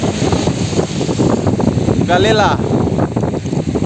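Gusty wind buffeting the microphone at Luari beach in North Halmahera, loud and continuous, with someone speaking briefly over it.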